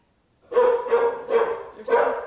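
A dog barking from behind a closed door: after a moment of silence, four evenly spaced, somewhat muffled barks in a steady rhythm, with no talking over them.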